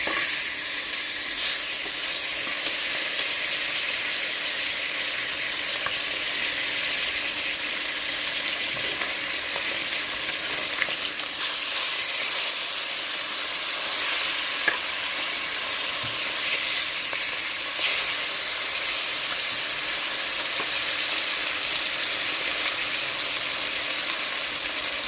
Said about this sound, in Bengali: মাছ অপর পিসটা ভাজা হয়ে গেছে, এখন আমি মাছ উল্টে দেবো